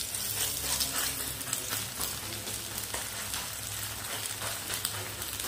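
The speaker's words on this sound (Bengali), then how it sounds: "এখন এই ডিমটা ভেজে নেব।" Beaten egg frying in oil in a wok while being broken into scrambled bits, a steady close sizzle with repeated scraping and tapping of a spatula, no voices.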